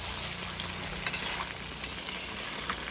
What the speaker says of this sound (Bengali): আলু ভাজাটা, দিয়ে এবার ভালো করে নাড়তে হবে তো